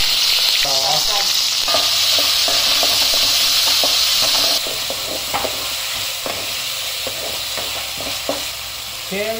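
Onions and fennel seeds fry in a pan for banana stem soup: a loud, bright sizzle with spatula scrapes and clanks that drops to a lower, quieter frying hiss midway, with stirring strokes continuing.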